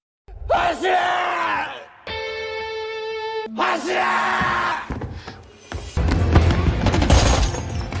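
Gunfire erupts in a film scene, with crowd yelling and a battle cry giving way to a loud, dense burst of shots near the end, while a sustained tone sounds in between.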